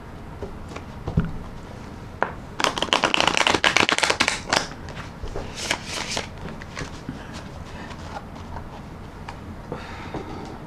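Tarot cards are riffle shuffled in one dense burst of rapid fluttering clicks, followed by softer taps and handling as the deck is squared, close and fairly loud with no talking.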